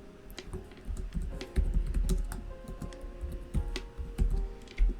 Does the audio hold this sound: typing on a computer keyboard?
yes